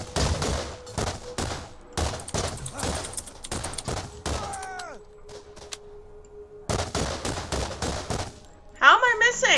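Gunfire in the video game Borderlands comes as bursts of rapid shots, loud and close, with a pause in the middle where a pinging tone rings out, then more shooting and a sharp final burst.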